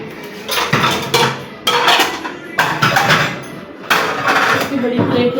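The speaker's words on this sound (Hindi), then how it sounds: "मैं बर्तन देती हूँ।" Dishes and plates clatter and clink as they are handled in a home kitchen, in loud repeated bursts with short pauses between them.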